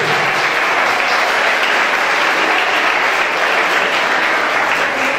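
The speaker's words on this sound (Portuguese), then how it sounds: "Eu acho que Jesus merece uma salva de palmas" A church congregation bursts into loud, continuous applause in praise of Jesus, a thick wash of many clapping hands that stays at full strength throughout without a break.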